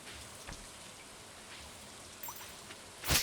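Rain in the Stardew Valley video game falls as a steady hiss of patter with scattered droplet ticks, soft and even, and a brief louder burst near the end.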